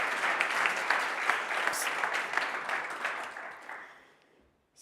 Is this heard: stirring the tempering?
no